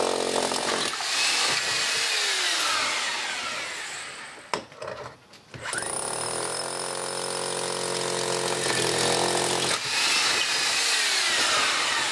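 A loud power drill grinds steadily into a masonry wall for cavity wall insulation holes, pausing briefly midway before drilling resumes, close by and without speech.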